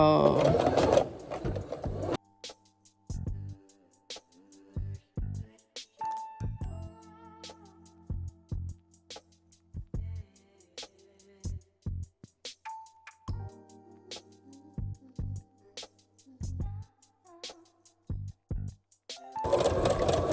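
A sewing machine stitches a faux fur headband in short, separate bursts of whirring between pauses, close and moderately loud. Someone talks at the start and end.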